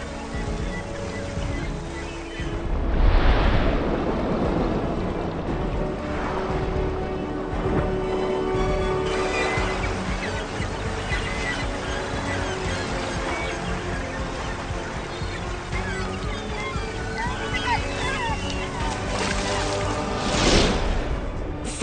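Open sea churning and splashing as feeding fish tear through a school of lanternfish, a continuous roiling wash of water with surging bursts, loud and close throughout.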